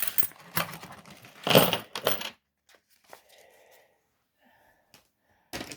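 Coins clink and rattle in a few quick bursts as they are handled, followed by softer scraping and a final clink.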